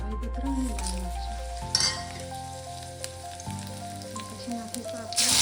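Bay leaf and dried red chili hitting hot oil and ghee in a kadai give a close, crackling sizzle with a few light clinks. A low musical tone runs underneath, and a brief voice is heard near the end.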